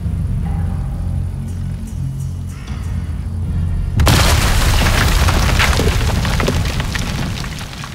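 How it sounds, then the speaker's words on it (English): A satchel charge detonates and destroys a bunker in Sniper Elite 5: a sudden loud, deep boom bursts out after a quieter stretch of low ambient rumble, then rolls on as a heavy, crackling roar of debris that slowly tapers. "Let's watch this one explode."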